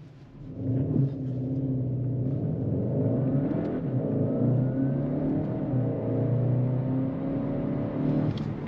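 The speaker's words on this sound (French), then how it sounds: "je vais vous faire un petit départ arrêté pour vous donner une idée de l'accélération" A 2022 Skoda Octavia RS hybrid estate (245 hp) pulls away hard from a standstill: engine note and electric whir rise together in a sustained surge of acceleration, heard from inside the car.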